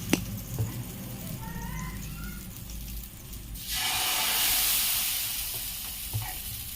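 Dosa batter hits a hot nonstick pan that already holds onions and bursts into a loud, steady sizzle and hiss, after a quieter stretch of faint cooking clatter.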